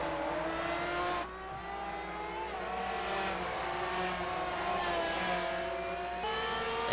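Ferrari race car in the Forza racing game at the Italian GP, a loud high-pitched engine revving up through the gears with abrupt shifts and pitch drops, alone with no talk.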